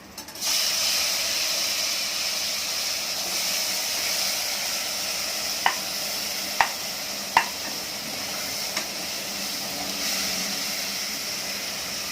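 Tomatoes hit a hot tadka for a whole toor dal usal, setting off a loud, steady sizzle that hisses throughout, broken by a few sharp clicks of a spoon stirring the pan.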